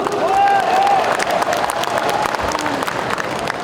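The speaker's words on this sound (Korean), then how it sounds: "뜨거운 박수로 환영해 주십시오" Sustained applause from a crowd at an Orange Day Agent Orange veterans' ceremony, steady and full throughout, with a few faint voices mixed in.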